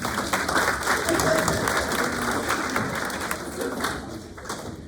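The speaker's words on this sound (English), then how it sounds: "Seriously, round of applause." Steady, dense clapping from a crowd at a volleyball banquet fills the whole stretch, a continuous wash of applause at moderate loudness that thins slightly toward the end.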